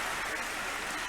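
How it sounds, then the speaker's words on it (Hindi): An audience at an Indian teachers' ceremony breaks into dense, sustained applause that stays loud and even throughout. "जोरदार तालियां।"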